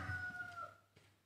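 A rooster calls once, a fairly close, drawn-out crow that fades after about a second, then quiet with a faint thump.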